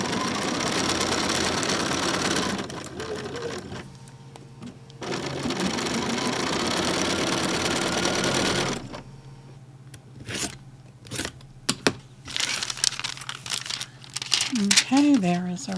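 A sewing machine runs in long continuous bursts while stitching quilt pieces together, followed by quieter stretches of fabric handling, crinkling and brief clicks, with a person speaking at times.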